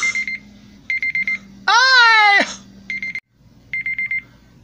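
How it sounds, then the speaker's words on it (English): A phone timer alarm set for three seconds rings loudly in repeated short beeping bursts, broken midway by a loud rising cartoonish vocal outburst, then the beeps resume. "I guess I could set a timer to see what the alarm is"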